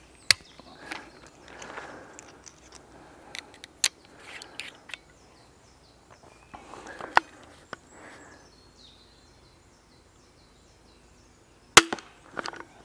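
A Steambow Stinger AR-6 crossbow is shot, giving sharp isolated snaps and clacks, with two loud releases near the start and near the end, between quieter mechanical handling clicks and faint rustling, with no talk.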